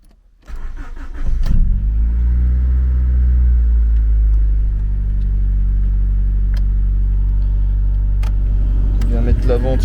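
Honda Civic EG4 with a D15B2 engine and automatic gearbox starting up, then idling with a steady low rumble while the heater fan blows on full, close and alone except for a few clicks.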